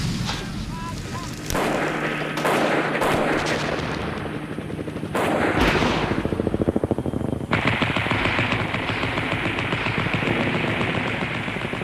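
Machine gun fire against helicopters crackles in rapid bursts and sharp volleys with a heavy boom, layered over rotor and battle noise in a loud, chaotic war scene.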